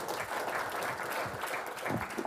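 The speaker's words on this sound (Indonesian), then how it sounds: "boleh tepuk tangan" An audience at an Indonesian lecture claps together in a steady, fairly soft, continuous patter of many hands, with no voices standing out.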